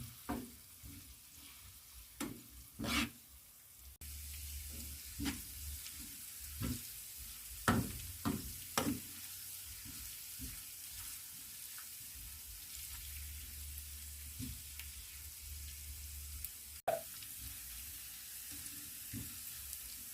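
Onions frying and browning in a pot for a Kenyan-style beef stew, a steady close sizzle with occasional stirring scrapes and clinks throughout, no talk.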